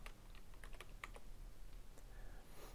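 Quiet tapping on a computer keyboard, a few separate keystrokes in quick succession over a low background hum.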